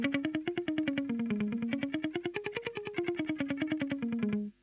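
A guitar run through a Korg A3 stereo delay effect plays a rapid stream of evenly pulsed, distorted notes with repeating echoes, moving up and down in pitch for about four and a half seconds before cutting off.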